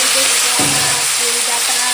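Onions and slit green chillies fry in hot oil with vegetables, giving a loud, continuous sizzle with a few stirring scrapes and no speech.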